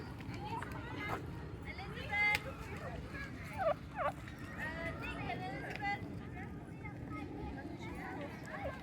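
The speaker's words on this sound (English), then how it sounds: "Turkeys. Gobble, gobble, gobble, gobble." Several turkeys gobble in short bursts at Mudchute Farm, amid a noisy outdoor background of bustle and distant voices.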